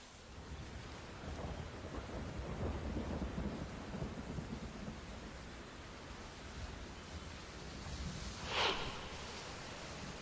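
Heavy rain pours steadily in Badnapur taluka of Jalna district, a dense constant hiss with a brief sharper crack of thunder near the end.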